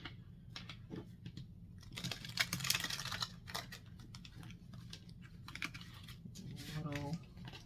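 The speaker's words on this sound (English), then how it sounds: "I'm going to do 3 shuffles." Tarot cards being shuffled by hand, papery riffles and soft shuffling clicks in several bursts, close up, with a somewhat rough, catching shuffle toward the end; no one speaks.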